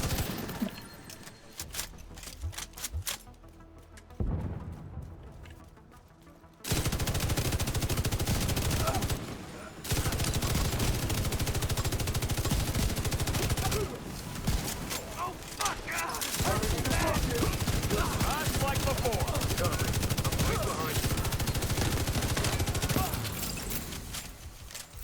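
Loud, sustained automatic gunfire in a shooter game rattles in long dense bursts after a quieter start, with brief pauses and scattered single shots, and a voice talking over it at times.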